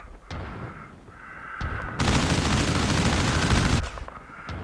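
Simulated weapons fire in Call of Duty Mobile: a few sharp single shots, then a loud sustained burst of rapid automatic fire lasting about two seconds, followed by more scattered shots.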